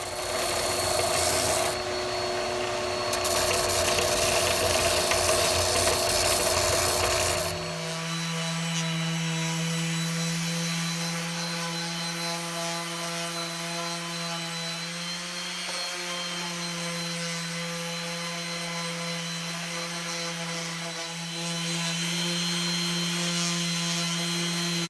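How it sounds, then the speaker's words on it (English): A belt sander smooths a walnut bowl, a loud, steady motor whine with gritty abrasive rasping at first, settling into an even, continuous hum. "Used the belt sander to smooth out some rough areas."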